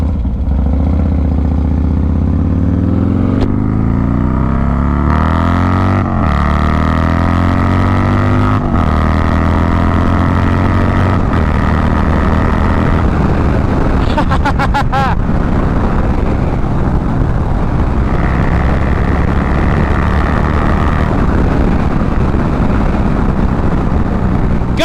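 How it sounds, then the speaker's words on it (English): Harley-Davidson motorcycle fitted with a fairing accelerating hard, its engine note climbing through several rising sweeps with gear changes, loud and close amid steady wind rush. "I fucking love letting this bike eat so much because it's a Harley"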